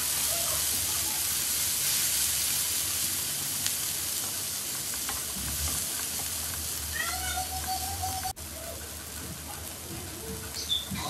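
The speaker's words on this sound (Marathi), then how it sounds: "टोमॅटो सुद्धा आपल्याला पुन्हा एकदा व्यवस्थित परतवून घ्यायचं आहे." Chopped tomatoes and capsicum sauté in a hot pan for pav bhaji, a steady sizzle broken by occasional stirring scrapes, with a cat meowing faintly in the background.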